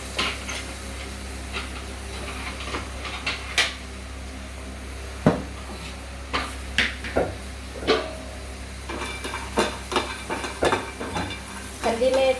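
Spices and ingredients for kadhi roasting in a pan, a steady low sizzle under scattered clinks and scrapes of a spoon stirring against metal, with a few louder knocks near the end.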